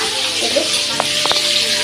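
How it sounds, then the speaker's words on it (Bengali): Potato pieces fry in a pan with a loud, steady hiss of sizzling oil, broken by a few sharp clicks and a short murmur of voice. "তো দেখলে এখন এখানে আলু ভাজা হচ্ছে।"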